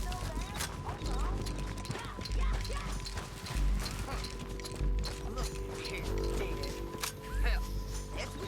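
Horses clip-clop in the video game Red Dead Redemption 2, with steady hoofbeats and an occasional whinny under spoken dialogue and background game sounds.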